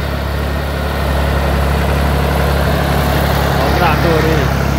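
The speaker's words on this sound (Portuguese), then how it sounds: "o trator Valtra A74S pisando a silagem aqui" A Valtra A74S tractor packing down a corn silage pile, its engine running as a steady low diesel drone with a constant rumble throughout, fairly close and without speech.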